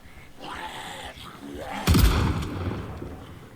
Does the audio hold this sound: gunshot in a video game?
yes